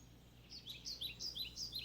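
Synthetic birdsong from the sleep-aid function of an Anker Soundcore Wakey Bluetooth alarm-clock speaker: repeated high chirps and twitters in a steady, quiet pattern over a faint low hum, with no talking.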